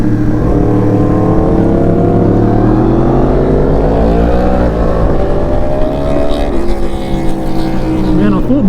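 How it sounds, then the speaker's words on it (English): Motorcycle exhaust revving and accelerating on a road, a loud continuous engine roar with rising harmonic pitch sweeps, close and steady throughout. "I was listening to Jamie's exhaust in front of me"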